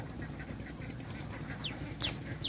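Farm ducks quacking as they walk in a line across a rice paddy, several calls scattered over a steady low outdoor rumble, fairly close.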